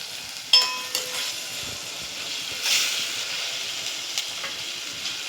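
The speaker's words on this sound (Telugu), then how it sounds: "అల్లం వెల్లుల్లి పేస్ట్ వేసేస్తాను." Ginger garlic paste sizzles in a hot pan for a street-style peas chaat, a steady close hiss that opens with a metallic clang and has a few light utensil knocks over it.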